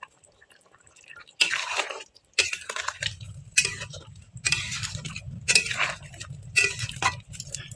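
Masala chicken with peanut and black cumin paste being stirred in a pan, a spoon scraping and clinking in irregular bursts over a low sizzle, close and fairly loud with gaps between strokes.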